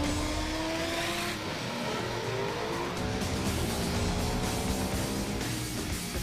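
A motorcycle launches onto a race track in Dubai, engine revs rising and shifting in pitch under a dense, loud wash of track and wind noise, with other vehicles roaring nearby.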